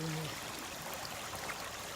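A mountain stream flows in a soft, steady rushing hiss, faint and continuous, with a brief voice at the very start.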